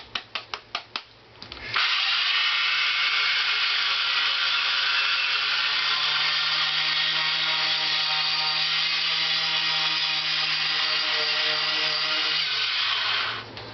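A handheld grinding machine fitted with sandpaper runs steadily on a Honda CX500 engine part for about twelve seconds, preceded by a few short bursts, then winds down; close and loud with no talking.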